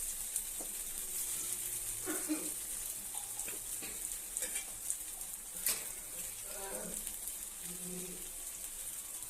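Arbi leaf pakoras deep frying in oil, giving a steady, moderately quiet sizzle with faint stirring clinks and occasional light taps throughout.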